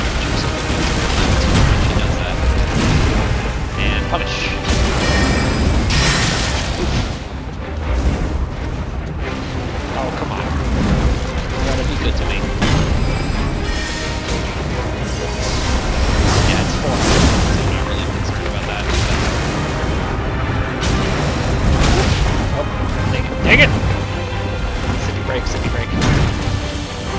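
Firebombs burst repeatedly in Elden Ring combat, loud crashing blasts and booming impacts piling up over a dense, continuous battle din, with a player talking throughout.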